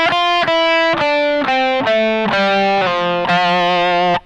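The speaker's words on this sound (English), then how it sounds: "and this pickup, and get a little more distortion and crunch and all that stuff" Electric guitar on the treble pickup with distortion and crunch plays a descending run of sustained, gritty single notes, loud and close, each note ringing about half a second before the next.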